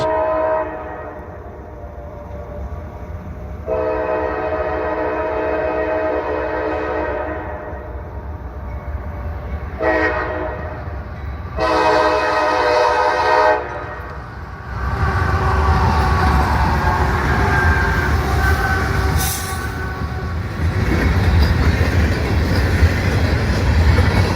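A CSX freight train on the CSX CC Subdivision approaches at night sounding its horn in several long blasts, then rumbles past loudly with steady rolling and clattering wheels.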